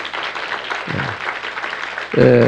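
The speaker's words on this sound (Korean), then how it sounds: "우리 한번 힘차게 한번 밀어줍시다. 박수로." A church congregation applauds in a steady wash of clapping, with brief voices rising near the end.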